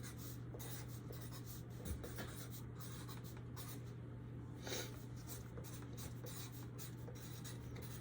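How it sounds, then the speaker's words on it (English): A pen scratches steadily across paper as vital signs are written down by hand in a patient scenario, a close, continuous run of short strokes over a low steady hum. "So let me write down some vital signs."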